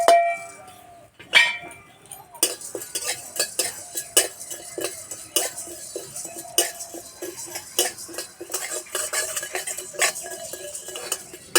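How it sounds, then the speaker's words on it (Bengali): Whole spices, black pepper, fennel, cumin, coriander, two cardamoms and a cinnamon stick, dry-roasting in a kadai while a metal spatula stirs them, giving repeated close scraping clinks and taps against the pan in an uneven rhythm. "এখানে নিয়েছি গোলমরিচ, মৌরি, জিরে, ধনে, দুটো এলাচ, একটা দারচিনি একসঙ্গে ভেজে নেব"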